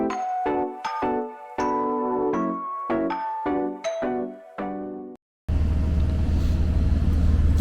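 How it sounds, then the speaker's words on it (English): An HVAC blower with a dirt-caked impeller wheel starts up, a steady broadband whoosh and rumble kicking in abruptly after a run of chime-like tones, then holding level. "So the blower's kicking on."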